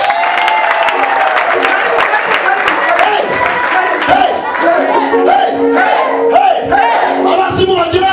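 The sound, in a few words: congregation applauding in church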